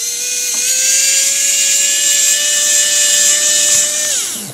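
Xiaomi Wowstick 1fs electric screwdriver whirs steadily while unscrewing a small screw, a high-pitched motor whine held close and loud for several seconds before winding down at the end.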